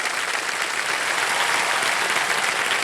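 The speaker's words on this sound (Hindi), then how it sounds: "जोरदार तालियां शिवानी के लिए" A studio audience on a Hindi TV game show claps loudly and steadily, a dense, sustained burst of applause with no speech over it.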